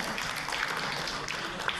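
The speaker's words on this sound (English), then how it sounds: "I think we should applaud that for sure." An audience claps during a talk on English and Indian accents, a soft, steady patter of many hands spread evenly through the moment, moderately distant with no clear individual claps.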